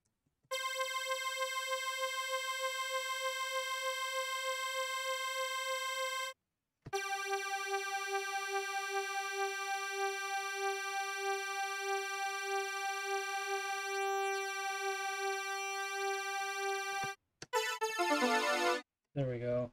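Sustained tones from the Spectra additive synthesizer: a steady harmonic tone, a brief gap, then a brighter, richer tone that holds for about ten seconds before short clipped bursts near the end, played alone without speech.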